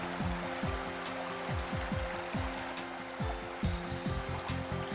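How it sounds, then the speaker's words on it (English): A stream running over a ford on a tributary of the River Slaney in County Wicklow, its steady flow audible under a droning, tonal background that repeatedly swoops downward, with no one talking. "This ford on a tributary of the River Slaney in County Wicklow is another freshwater barrier"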